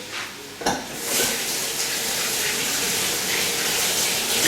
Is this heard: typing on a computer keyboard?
no